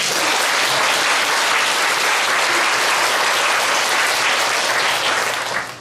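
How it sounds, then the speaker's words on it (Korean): Applause from a church congregation at a Korean revival service fills the room, a loud, dense and sustained crowd clapping that holds steady for several seconds before tapering at the end. "우리 함께 박수 한번 드립니다"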